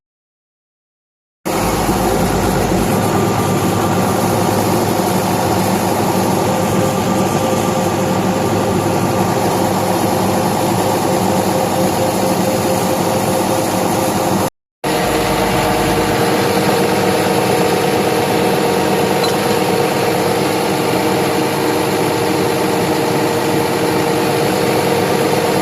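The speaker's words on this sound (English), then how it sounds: "Now I'm going to start the machine and check the charging." CAT M318 wheel excavator with a new battery starting up and settling into a steady diesel idle, loud and close, running continuously apart from one brief cut in the recording.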